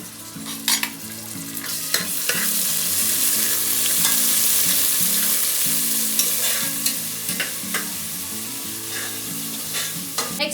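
Ginger garlic paste fries in hot oil for chicken biryani, a continuous loud sizzle broken by repeated scraping stirs and spoon knocks against the pan.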